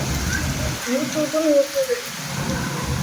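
Heavy rain pours on a rooftop terrace in Erode during strong wind, a dense continuous hiss of falling water, with a brief tonal, voice-like sound rising over it midway.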